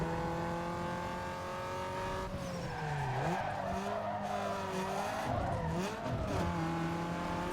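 A race car in Need for Speed Underground 2 howls through a turn, its engine note rising and dipping as the tires squeal and skid, loud and continuous, with no voices.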